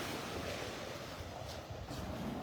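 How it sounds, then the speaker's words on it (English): Ocean surf on Delnor-Wiggins beach in North Naples, Florida, makes a dense, continuous wash of breaking waves mixed with gusty wind rumble on the microphone, with no speech. "Sounds of those waves"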